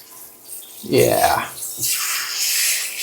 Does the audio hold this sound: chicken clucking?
no